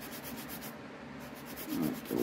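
A fingernail is filed with the 180-grit side of a nail file, giving soft, rapid back-and-forth rubbing strokes up close that grow a little louder toward the end, with no talking.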